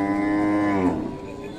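A single cow or buffalo gives one loud, close, drawn-out moo at a livestock market in Jamui, Bihar, its low call trailing off near the end.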